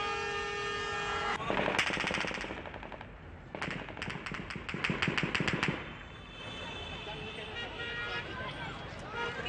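Gunfire rings out outside Kabul Airport. Rapid automatic bursts and sharp cracks sound at a distance over a noisy outdoor background with voices, then give way to a rumbling din.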